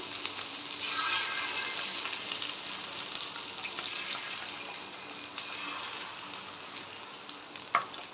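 Beaten egg fries in ghee with chopped capsicum, giving a soft, steady sizzle at low volume throughout, with a single light clink from a utensil near the end.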